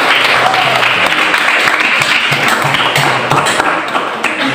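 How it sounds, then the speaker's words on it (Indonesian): Classroom applause from students after a group presentation, steady dense clapping filling the room for several seconds with a few taps and thuds mixed in. "Dan mari kita berikan tepuk tangan."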